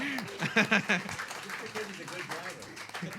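Audience at a live jazz trio concert in a small venue applauding the musician Luther, a scattered, moderate patter of clapping with bursts of cheering and overlapping voices from the crowd.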